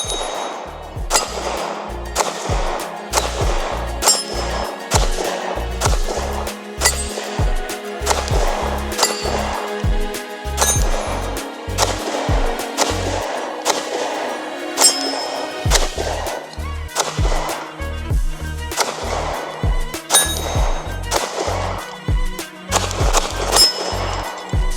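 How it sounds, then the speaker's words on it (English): A DUSK19 Glock-style handgun with a brown frame fires a steady series of crisp shots. The evenly spaced reports repeat over a continuous background, with short gaps between strings and no talking. "let's load up again and continue shooting"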